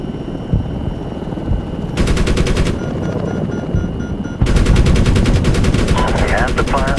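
Rapid machine-gun fire rattles in long bursts with heavier thumps mixed in during a Medal of Honor battle, loud and close, over a steady background hum and muffled voices.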